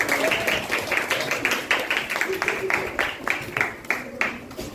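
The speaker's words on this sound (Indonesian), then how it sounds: "Ya, tepuk tangan." Classroom audience applauding after a group presentation in a teacher-training lesson, a run of fairly steady, moderately loud claps lasting several seconds with some voices mixed in.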